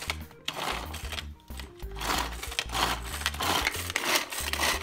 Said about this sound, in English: We're just going to chop those all up in a little mini chopper here